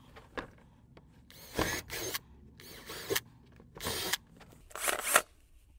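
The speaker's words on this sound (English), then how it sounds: "All right, you guys, we're ready to do some drilling." Power drill boring holes into a wall with a 3/16 inch bit while a TV wall mount is installed; five or six short whining bursts of about half a second each, close and moderately loud, separated by quiet pauses.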